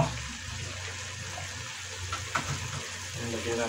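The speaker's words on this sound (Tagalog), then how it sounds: "Lagyan natin ng tubig." Water runs steadily into a cooking pot while making sinigang with chicken feet, a continuous close splashing fill with no talk over it.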